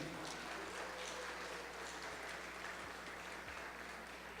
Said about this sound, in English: One more big round of applause for our judges.